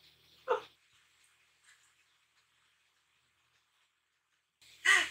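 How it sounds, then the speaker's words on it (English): A big dog in an anime episode gives two sharp barks, one early and one at the end, separated by near silence with faint background sound. "Oh no, that's a big dog."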